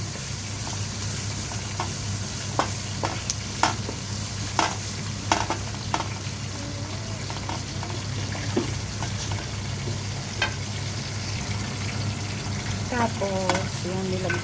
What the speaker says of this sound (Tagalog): Tapos ito magigisa na ako. Magigisa na. Ayan, inuna ko tong luya.